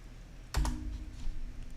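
Typing on a computer keyboard while working in CLO 3D design software, with a single quiet, sharp key click followed by faint soft taps against low background hum.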